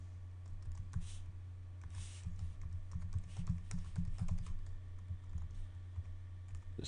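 Someone types an email address on a computer keyboard in Apple Mail, giving a close, steady run of quick key clicks with a low hum underneath and no talking.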